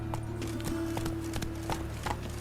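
Horse hooves beat in a quick, steady rhythm as the horse speeds along in The Witcher 3, a faint, continuous clip-clop over a low droning game background.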